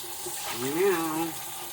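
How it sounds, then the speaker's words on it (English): Water runs from a tap as something is rinsed out beneath it, a soft gushing wash of moderate loudness with a brief swell in the middle. "just rinse this out"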